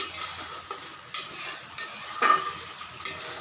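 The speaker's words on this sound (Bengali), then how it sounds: "গ্যাসের ফ্লেমটা কমিয়ে দিয়ে হালকা হালকা করে নাড়তে হবে আর কষাতে হবে" Spices being stirred in a pan for a pangas fish curry over a lowered gas flame, heard as a series of short scraping strokes and clinks of a utensil against the pan over a soft steady sizzle.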